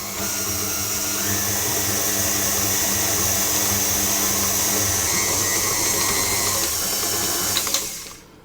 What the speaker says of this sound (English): So I'm going to increase the speed to medium, and I'm going to mix it for 6 to 8 minutes